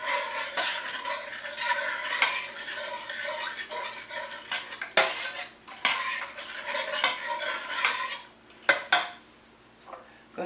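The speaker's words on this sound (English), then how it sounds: "Give all this a stir here." Spoon stirring sugar, cumin and oregano in a pot for chili cheese enchiladas, repeated scraping and clinking against the metal with a light sizzle underneath, close and fairly loud.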